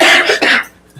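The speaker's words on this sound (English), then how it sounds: "Says she's going to cough all the time" A single loud, close cough with two quick bursts, then fading to quiet.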